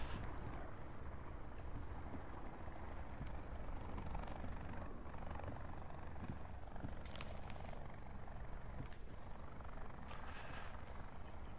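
A video-game helicopter drones steadily nearby, its rotor noise a dense, constant rumble that fills the whole stretch without talk.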